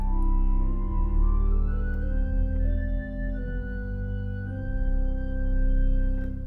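Hybrid pipe organ with real pipes and digital stops at West Raleigh Presbyterian, playing the Nasat solo combination without the 4-foot flute, a held chordal passage with a melody line gliding over it, steady and alone.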